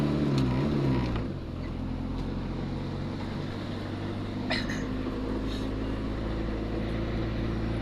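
Vehicles idle and creep in a long traffic jam, a steady low engine rumble near the listener with a brief louder revving burst at the start and faint clanks later.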